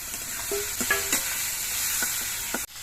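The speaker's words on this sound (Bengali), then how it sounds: "সর্ষের তেলটা গরম হয়ে গেছে এবার চিংড়ি মাছগুলো ভেজে নিচ্ছি" Shrimp frying in hot mustard oil, a steady close sizzle with occasional stirring scrapes and sharp spatters, no talking.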